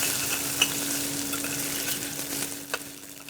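Ginger and garlic fry in a pan with a steady, soft sizzle, broken by a few faint stirring clicks and scrapes; no one talks.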